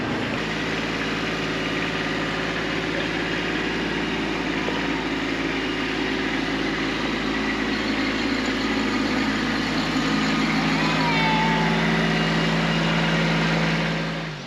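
A Kubota B2601 compact tractor fitted with a rock bucket idles steadily and close by, its diesel engine producing a continuous, even drone with no talking.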